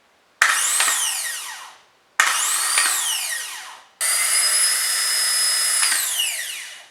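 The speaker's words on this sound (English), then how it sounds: "we need to hear sound of the rotating motor" A 2009 Honda Accord starter motor spins freely on a bench test in three separate runs. Each run is a sharp whirring whine that rises quickly, then winds down, and the last run holds longer before it fades.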